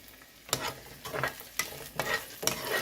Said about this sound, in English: You saute these onions for 1 minute